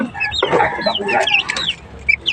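Chickens clucking close by in a backyard pen, a busy run of loud, rising clucks and squawks with some sharper calls near the end.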